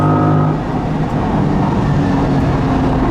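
A mid-engine C8 Corvette accelerates hard from its engine, a loud, steady, close roar that climbs in pitch over a few seconds, heard alone without talk.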